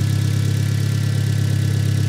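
A Hyundai Genesis 2.0T turbo engine idling, a steady, loud, low rumbling drone heard up close with even pulsing and no talking.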